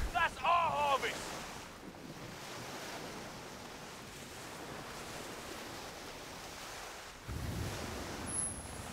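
Wind rushes and waves wash steadily around a sailing ship at sea in the pirate game Skull and Bones, a continuous broad roar with a brief tonal blip at the start and a swell near the end.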